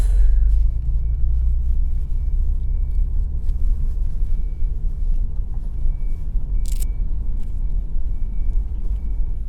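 Honda Civic Type R FL5 in ARTA GT trim with KW ST suspension, out on a circuit test, gives a steady, loud low engine and road rumble that holds without a break, with one brief higher scrape near the end.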